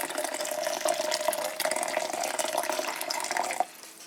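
Hot water pours into a French press coffee maker, a steady trickling stream running close and fairly quiet before cutting off near the end.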